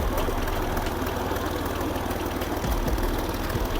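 A tractor engine idles on a muddy, slippery village track, a loud, steady low chugging with a rapid regular knock that runs without a break, no voices over it.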